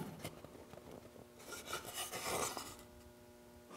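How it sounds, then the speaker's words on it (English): A sanding block rubs along the edges of a small wooden box, a soft rhythmic rasping of quick back-and-forth strokes, close and fairly quiet, without talk. "I'm going to sand these edges with the sanding block"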